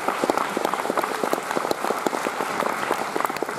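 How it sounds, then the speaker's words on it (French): An indoor audience at a forum event applauds steadily, a dense wash of many hands clapping at close range with no voices over it. "vous avez la gentillesse d'applaudir"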